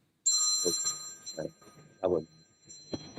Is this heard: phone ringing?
yes